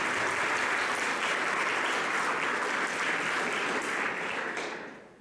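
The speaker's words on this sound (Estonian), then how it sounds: "Aplaus kõikidele õpetajatele." A school gala audience at Paide Gymnasium applauds the teachers with steady, dense clapping from a crowd in a hall, holding even for several seconds before fading out at the end.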